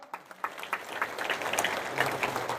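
A crowd at a political gathering gives a round of applause for the journalists present, scattered claps building into steady, moderately distant clapping.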